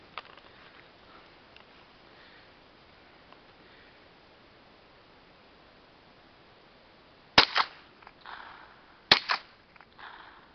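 Two sharp rifle shots, from a .22 and a 30-30 fired at a distant target outdoors, crack out a couple of seconds apart over faint background noise, with short rustles and handling sounds following each.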